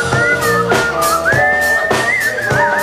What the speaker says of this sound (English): No kidding, that's him in the Kennedy Center, whistling.